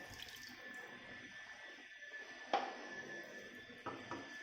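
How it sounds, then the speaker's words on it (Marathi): Rinse water from a washed mixer-grinder jar poured back into a pan of egg curry, a soft steady pour with a brief splash near the middle and a couple more spills toward the end. "आपलं जे मिक्सरचं भांडं धुवून पाणी राहिलेलं ते थोडंसं परत ओतून घेते मी याच्यात"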